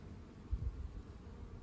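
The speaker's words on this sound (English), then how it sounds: "There's bees down there." Honeybees in an open hive during an inspection, a faint, steady low buzz with a brief louder swell partway through, no voices.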